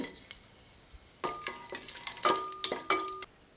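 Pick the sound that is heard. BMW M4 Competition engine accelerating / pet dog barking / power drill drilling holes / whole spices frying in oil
whole spices frying in oil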